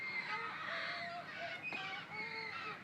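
A flock of parrots calls in a back yard, with repeated squawks and honking, rising and falling cries overlapping one another, fairly faint and a little distant.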